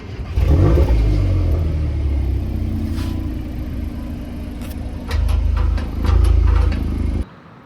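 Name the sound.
Golf R active exhaust rumbling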